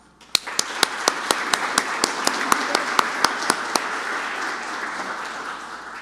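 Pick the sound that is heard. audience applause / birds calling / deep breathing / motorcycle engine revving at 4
audience applause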